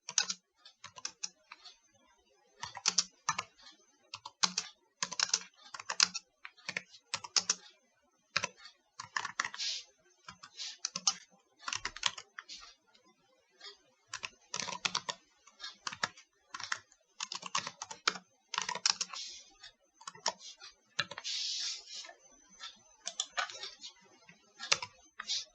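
Code is typed on a computer keyboard in a steady stream of close, crisp key clicks, with brief pauses between bursts for about twenty-five seconds.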